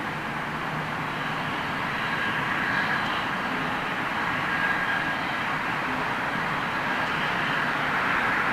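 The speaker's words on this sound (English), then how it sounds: "Sounds like that 747 might be running up one of its engines" A Boeing 747 at Heathrow Airport runs up one of its engines, a steady, loud jet roar with a constant whine holding throughout, no talk over it.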